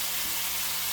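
Beef sears in a pan over high heat, giving a brief, steady, fairly quiet sizzle and hiss with no talking.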